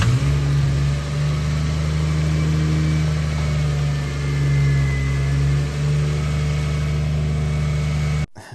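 A car engine fitted after an engine swap starts and settles into a loud, steady idle close by, holding an even hum for several seconds before cutting off abruptly at the end.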